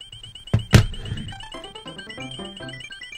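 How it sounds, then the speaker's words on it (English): The game-over sound from Super Mario Bros. 2 on the Switch version: a sudden thump, then a short, sad descending melody of electronic notes over a steady background tone, played alone with no talking. "you know what that sound means. I got a game over in the other one"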